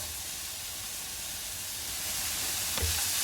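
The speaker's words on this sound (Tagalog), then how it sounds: "Siyang stir fry lang." Carrots being stir-fried in a pan for vegetable spring rolls, a steady soft sizzle and hiss with a faint clink of a utensil near the end.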